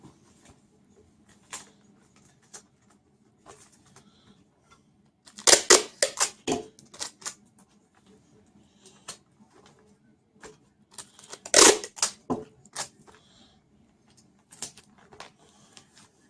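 Packing tape pulled off the roll and pressed across the bottom of a folded flat storage box, coming in two loud rasping bursts of about a second or two each, separated by quieter tapping and handling.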